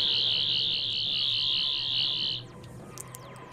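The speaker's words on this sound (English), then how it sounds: "You also have sonic sounds," Sonic screwdriver sound from a Minecraft TARDIS plugin, a high, steady warbling electronic whine held for about two and a half seconds before cutting off, leaving faint background noise and brief clicks, with no talking.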